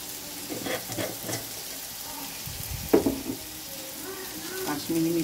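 Dried red chillies dropped into hot oil, a soft steady sizzle with a few stirring clinks and light kitchen knocks, heard without talk.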